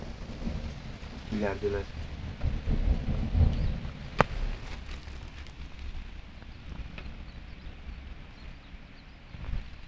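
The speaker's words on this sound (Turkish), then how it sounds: "Gök gürültüyor acayip. Kesinlikle duyuyorsunuzdur sesi." Thunder rumbles low and rolling through a steady rainstorm outdoors near a goat farm, with one sharp crack midway, rain hissing throughout and a brief spoken word.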